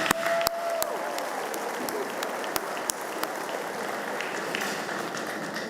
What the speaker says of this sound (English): Taylor another round of applause